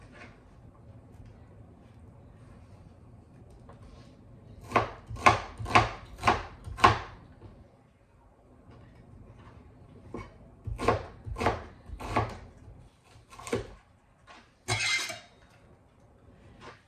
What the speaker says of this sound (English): Alright, I lost track of how many onions I've cut here.